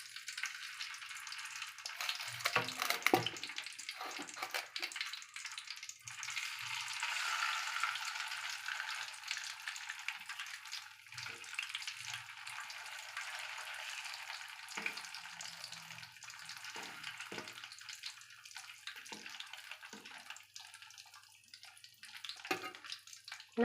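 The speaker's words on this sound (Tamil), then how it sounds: "நல்லா வறுத்து எடுத்துடலாங்க." Bitter gourd frying in hot oil, a dense bubbling crackle that swells and eases over a long stretch, with occasional spatter pops and faint scrapes, near and steady, no talk.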